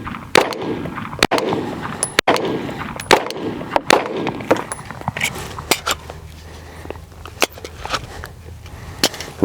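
Handgun shots crack out in a rapid string during a basic shooting skill drill, sharp broadband reports with decaying ringing tails, roughly a dozen closely spaced, loud and near, with no talk over them.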